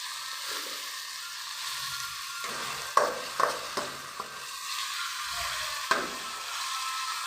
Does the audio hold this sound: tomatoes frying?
yes